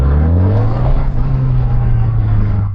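Kove 450 RR motorcycle engine revving on throttle in first gear, a loud close steady roar with a slowly climbing pitch that holds throughout.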